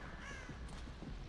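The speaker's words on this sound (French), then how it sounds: "Le corbeau m'a fait sursauter." A crow caws once in the Dead by Daylight video game, a short harsh call heard alone over a low, quiet game ambience.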